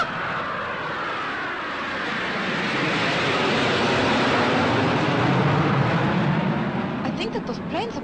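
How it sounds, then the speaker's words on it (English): Jet planes roar overhead in a broad, loud rushing drone that swells and slowly fades, with faint voices near the end. "I think that those planes up there would make an interesting picture, Mr. Ayagi."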